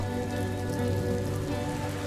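Steady rain drumming on a surface, a dense continuous patter that stays even throughout, with no voices.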